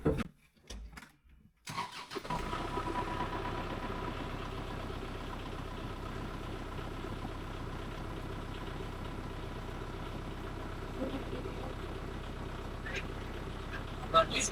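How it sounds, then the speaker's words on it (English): A few quiet knocks, then a heavy tractor engine cranks and catches, settling into a steady low rumbling idle that runs on unchanged. "we're gonna fire the tractor up"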